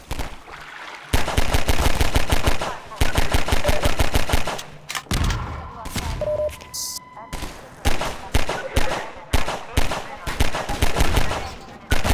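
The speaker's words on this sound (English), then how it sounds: "Can I not be shot at, please?" Rapid bursts of enemy gunfire in Half-Life 2, loud and close, coming in repeated volleys of automatic fire with short gaps between them.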